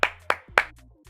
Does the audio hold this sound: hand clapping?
yes